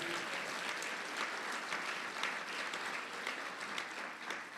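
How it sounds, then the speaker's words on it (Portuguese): A church congregation applauds in a steady, dense wash of clapping that carries on evenly from start to finish, fairly distant and moderately quiet. "Você pode dar glória a Deus, um forte aplauso ao Senhor por isso."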